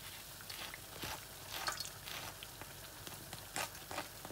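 Akara bean fritters frying in hot oil, giving a faint, steady sizzle with scattered crisp pops and crackles spread across a few seconds.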